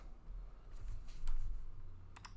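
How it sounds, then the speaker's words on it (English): Fingers type on a computer keyboard while entering functions into a Desmos graph, producing a few soft, scattered key clicks over a low background rumble with no talk. "I'm going to start typing in some functions in here."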